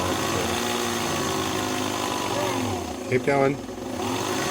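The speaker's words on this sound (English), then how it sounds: "He's going to help us wind a bobbin." A Singer 527 sewing machine under repair winds a bobbin with a steady motor whir, close and continuous, while a person speaks briefly over it near the end.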